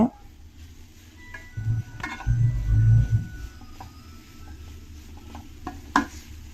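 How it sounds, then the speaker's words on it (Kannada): Carrots fry in ghee in a pan, with a low sizzle and scraping stirs that swell in the middle, plus scattered utensil clinks against the pan. "ತುಪ್ಪ ಮತ್ತು ಕ್ಯಾರೆಟ್ ಎರಡು ಚೆನ್ನಾಗಿ ಫ್ರೈ ಮಾಡ್ಕೋಬೇಕಾಗತ್ತೆ"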